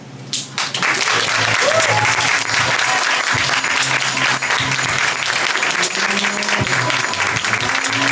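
An open-mic audience applauds a poet with loud, sustained clapping that begins sharply after a brief pause and fills the room, mixed with a few cheers from the crowd.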